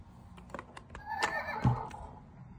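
Horse neighing from a children's farm toy, a short whinny rising mid-clip among sharp clicking clip-clop taps, moderately close and without talk.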